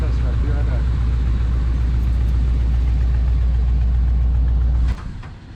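A Chevy G10 van's engine runs at a steady, loud idle, a continuous low rumble that holds evenly for about five seconds before cutting off abruptly near the end.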